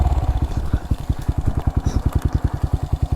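Honda Monkey motorcycle engine putters close and loud in a fast, even thumping rhythm as it rides down a dirt trail, single-cylinder pulses rising slightly in pace.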